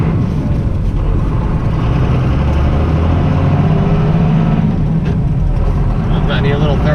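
An old truck driving off on its first run, engine rumbling low and steady as it pulls away from close by, with people talking over it.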